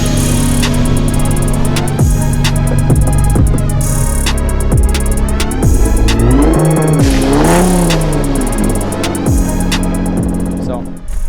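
Nissan Skyline GT-R R32 engine revving loudly and continuously, with rising and falling pitch sweeps over a dense mechanical whine and steady drone throughout.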